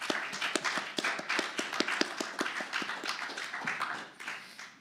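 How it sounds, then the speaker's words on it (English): A small audience at an accessibility-focused fireside chat claps in a steady, fairly sparse rhythm, distinct individual claps fading out after about four seconds. "I think that really deserves a bit of a round of applause."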